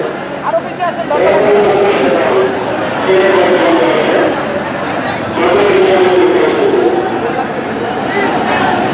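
Shahbag metro station, packed, roars with crowd chatter and rumbling train noise, while a voice speaks over the steady, loud din.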